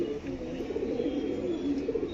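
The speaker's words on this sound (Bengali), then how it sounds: "একদম ডিপ আইসে পায়রা" Pigeons coo in a low, steady, continuous murmur at a loft where birds are being sold, with a young bird among them and faint background noise throughout.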